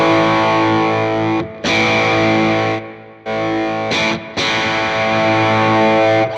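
Electric guitar played through an OCD clone overdrive pedal and a volume pedal: loud, sustained distorted chords that cut out and swell back in several times as the volume rolls down and up.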